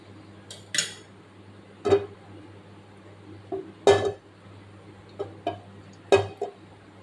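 A pan is set down on a stove and ghee is added while cooking a Punjabi-style chickpea curry, giving a few separate metallic clinks and clatters spaced through otherwise quiet kitchen air.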